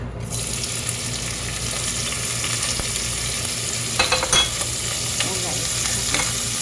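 Onions sizzle loudly in hot oil in a pot, a constant crackling hiss with a few scraping stirs and clinks partway through.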